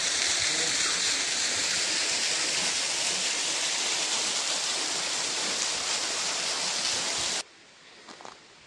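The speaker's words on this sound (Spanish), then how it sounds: "Ya estuvimos un ratito aquí en lo que es el fondo de la cascada." The Cusarare waterfall in Copper Canyon gives a loud, constant roar of falling water heard from near its base. The roar cuts off abruptly near the end, leaving faint background sounds.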